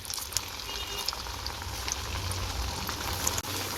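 Potato snacks deep-frying in hot oil over a medium flame, giving a steady, even sizzle that carries through the whole stretch without a break.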